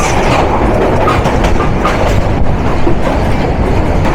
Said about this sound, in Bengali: এতটা ঝোড়ো গতিতে সিলেট থেকে ঢাকা অভিমুখে আন্তনগর উপবন এক্সপ্রেস